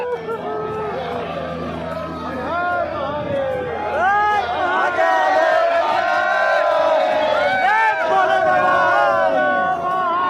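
Massed pilgrims at the Kedarnath temple door opening raise a loud, steady crowd roar with surging chants and shouted cries, close and continuous for the whole stretch.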